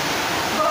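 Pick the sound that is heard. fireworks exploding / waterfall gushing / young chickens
waterfall gushing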